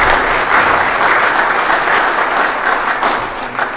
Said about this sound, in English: a big round of applause for our sponsors